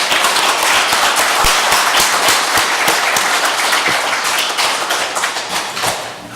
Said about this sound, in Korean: 우리 오늘 오랜만에 한번 크게 격려의 박수를 한번 하겠습니다